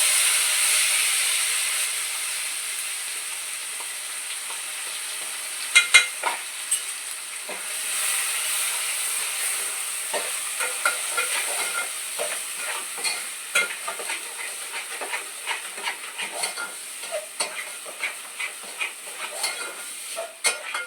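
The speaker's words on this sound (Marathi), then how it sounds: "आपलं वाटण चांगलं परतून झालेलं आहे" Green masala paste sizzles and hisses in a hot pan, a steady frying bed broken by scraping spoon strokes that grow busier and more rhythmic over about twenty seconds, with no talking.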